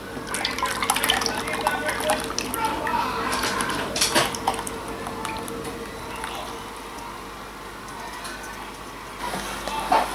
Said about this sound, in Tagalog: Isalin na natin yung mixture. Itong mixture, parang syrup ang consistency.